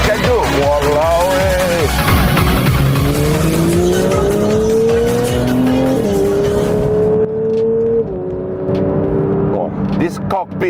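A Porsche 992 GT3 drives hard, its engine rising through gears in loud, close rising tones with shift breaks, tire squeal mixed in, before cutting out near the end.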